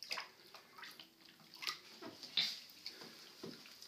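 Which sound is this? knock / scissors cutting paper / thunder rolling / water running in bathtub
water running in bathtub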